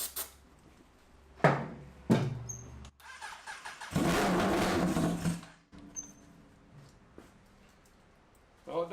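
A $600 Suzuki GSX-R 1100 drag bike engine starting and revving in a garage, with a few sharp bangs before a loud sustained burst of engine noise that then cuts off, followed by quieter mechanical sounds.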